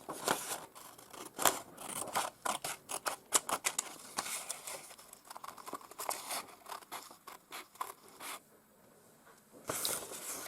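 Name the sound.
scissors cutting out paper shapes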